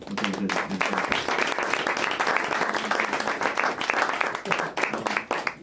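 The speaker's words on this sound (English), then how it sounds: "How about another hand for Menzie and Rocky for what they did?" An audience at a drumming clinic claps steadily for several seconds, a dense wash of applause with a few voices mixed in.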